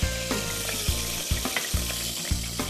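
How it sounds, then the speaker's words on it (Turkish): Spinach sizzles and fries in a hot pot, a dense crackling hiss broken by regular stirring scrapes about every half second, close and steady, with no talk. "Biraz ıspanak atalım Necmi'den."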